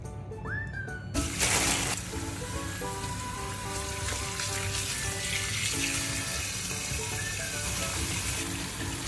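Tap water runs steadily into a sink while lapu-lapu fish is rinsed, a continuous splashing wash with faint clinks and movement throughout.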